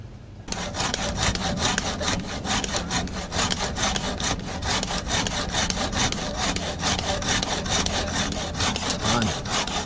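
A hand saw cuts through bamboo for a bench, fast even back-and-forth strokes rasping loudly up close, with no talk over them.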